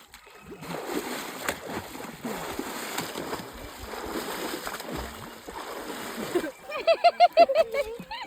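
Water splashes and sloshes nearby as people move about in a river, with voices and playful shouts mixed in, ending in a few louder splashes.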